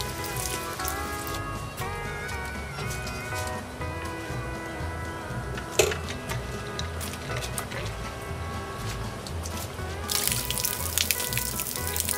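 An automatic bilge pump spews water in a steady, splashing stream that runs continuously and grows slightly louder near the end, with drips and spatter throughout.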